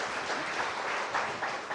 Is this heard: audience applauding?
yes